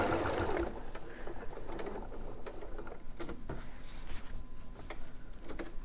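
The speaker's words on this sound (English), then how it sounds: "So you're just top stitching around 3 sides." Sewing machine top stitching around a pocket, a quiet, steady mechanical whirr and tick running throughout, with faint background clatter and no talking.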